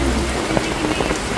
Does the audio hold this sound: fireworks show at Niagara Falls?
no